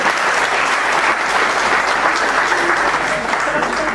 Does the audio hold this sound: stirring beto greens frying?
no